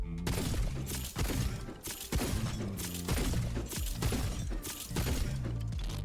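Tempest shotgun in the video game Wayfinder firing in a repeated rhythm, sharp loud blasts roughly every second, each followed by quick mechanical reload clacks, with dense game sound filling the background.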